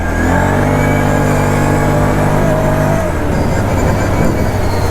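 An Arctic Cat 1000 TRV ATV with a stiffer EPI secondary clutch spring, in two-wheel drive high range, accelerates loudly and close by, its engine note climbing steadily for three seconds before the pitch shifts and the motor keeps roaring.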